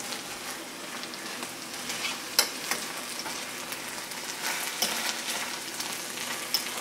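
Mushrooms fry in a pan with a steady, close hiss, broken by a few sharp scrapes and clicks as they are stirred.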